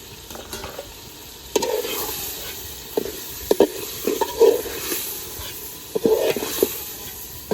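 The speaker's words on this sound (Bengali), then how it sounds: "মাংসটা খুব ভালোভাবে কষে নিই।" Meat stir-fried with spices in a pan for khichuri, sizzling continuously with repeated scraping strokes of a spatula at an irregular rhythm, close and clear.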